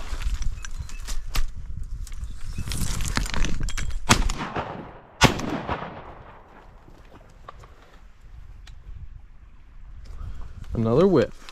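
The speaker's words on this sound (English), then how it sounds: "Pretty sure I shot right over the top of him on that first one." Shotgun shots ring out while duck hunting on a small creek: two sharp, loud reports about a second apart, followed by quieter outdoor sounds and voices.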